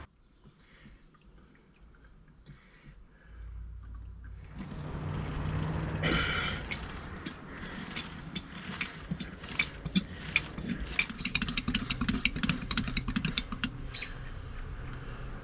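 Oil is drawn from a 4.3 boat engine with a pump during an oil change. After a quiet start the pumping begins with a rush of noise and a steady run of quick clicks and gurgling squelches, close and fairly loud, with no talking.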